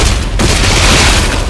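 Gunfire and booming weapon blasts from the sci-fi horror video game Dead Space 3 fill the stretch almost continuously, loud and dense, with a brief gap near the start before the barrage resumes.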